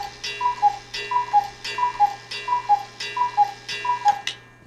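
A cuckoo clock ticks steadily and close by in a regular, even rhythm of paired clicks that repeat about every seven-tenths of a second, with a faint steady hum underneath.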